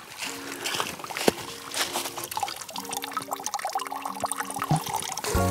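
Thin stream of water trickling from a moss-covered forest fountain half buried under autumn leaves in a park woodland, a steady close babble with soft drips and gurgles running throughout.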